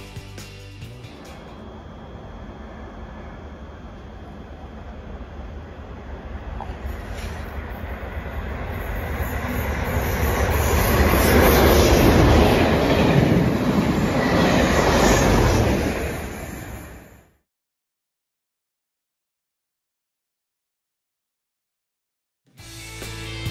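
A pair of Class 37 diesel locomotives passes beneath a bridge. The rumble builds to a loud, close roar with rail clatter and a high whine, then cuts off abruptly into silence before the noise briefly returns.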